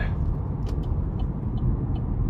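Steady low rumble of a 2012 GMC Terrain with the 2.4-litre four-cylinder engine cruising on a test drive, a continuous close road and engine drone with a few faint ticks above it.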